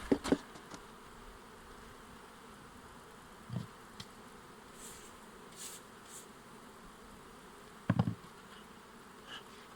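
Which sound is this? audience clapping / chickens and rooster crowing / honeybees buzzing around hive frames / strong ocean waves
honeybees buzzing around hive frames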